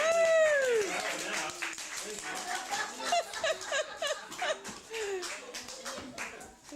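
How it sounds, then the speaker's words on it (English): Scattered clapping from a small party crowd follows a card trick at a birthday, with excited voices, laughter and children's shouts mixed throughout. "Give her a big round of applause"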